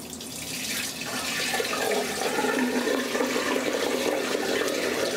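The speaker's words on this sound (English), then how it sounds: "So you can actually take your dirty bucket of water and dump it down the floor drain." A bucket of dirty water is dumped down a bathroom floor drain, producing a continuous rushing, gurgling pour of water that stays steady for several seconds.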